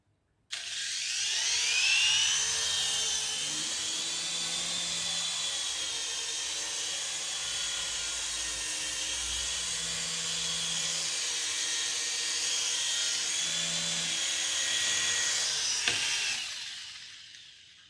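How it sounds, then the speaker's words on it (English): A Phoenix Phantom 6010 mini infrared toy helicopter flies nearby, its small electric rotor giving a steady high buzzing whine with slight wavering for about fifteen seconds, then cutting off; no talking. "we'll see if we can get a bit of a flight out of it"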